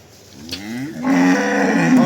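A cow moos close by, a long low call that rises and swells in loudness, heard clearly on its own.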